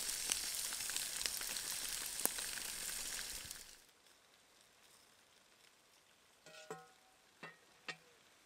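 A foil parcel of potatoes and garlic cloves crackles and sizzles on hot coals in a garden brick cooker. The sizzle then cuts off abruptly, leaving near quiet with a few faint knocks.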